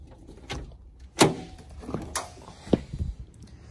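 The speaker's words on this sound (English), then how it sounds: "So the door opened up." A car door latch clunks and the door of a Phase 1 Peugeot 205 is pushed open from the inside, window mechanism and glass removed, with several sharp mechanical knocks and rattles close by.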